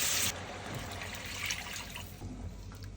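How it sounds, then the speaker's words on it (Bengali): Water poured into a pan of spiced rohu fish curry with tomato, a steady soft pouring and bubbling hiss that starts with a brief louder splash and continues quietly throughout. "আমার মশলা কষানো হয়ে গেছে, এখন দিব পানি।"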